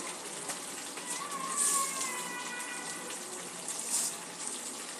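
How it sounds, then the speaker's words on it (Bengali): Chicken pieces sizzle steadily in a pan with Kashmiri chilli powder while being cooked down for a chicken masala, with a continuous close hiss and occasional brighter spatters and stirring scrapes. "মাংসটা আরও কিছুক্ষণ কষা হবে"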